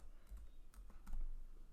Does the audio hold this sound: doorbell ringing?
no